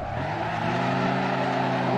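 A Ford Transit van slides sideways on the Nürburgring, its engine droning loud and steady with a strained, smeared roar of tires under it, no voices.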